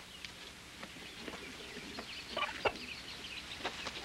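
A rooster clucks in short bursts, fairly close, against a soft background hiss with no talking.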